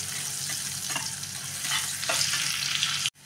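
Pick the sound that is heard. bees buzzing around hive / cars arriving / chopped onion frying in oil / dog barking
chopped onion frying in oil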